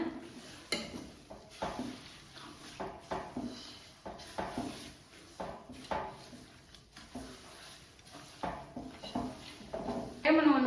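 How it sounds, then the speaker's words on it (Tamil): Spoon scraping and clinking against a pot while herbal hair oil made from many herbs is stirred, a run of repeated irregular strokes at close range with a little talk around them. "கரண்டி போட்டு நல்லா மிக்ஸ் பண்ணலாம்"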